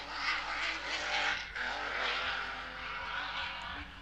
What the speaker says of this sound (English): he's got some major dramas at the back of that car. You can hear the different sound.